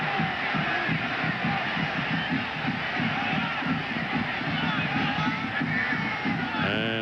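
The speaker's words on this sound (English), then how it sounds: "I can tell you from the booing that's going on right now" A large football stadium crowd boos a referee's ball spot, a dense, sustained roar of disapproval spread wide and loud, with commentators' voices faintly mixed in.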